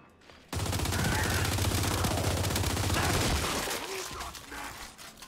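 Gnasher shotgun fire in the video game Gears 5: a loud, dense burst of gunfire starts abruptly and pounds on for about three seconds, then thins out into a fading tail.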